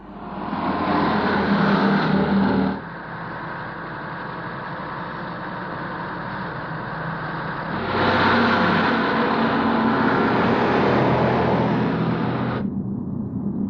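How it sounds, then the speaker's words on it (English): A transporter truck drives through a deserted city at night, its steady engine roar and road noise loud and continuous throughout, swelling to a heavier surge partway through before cutting off abruptly near the end. "Late one night, a transporter drove through the deserted city."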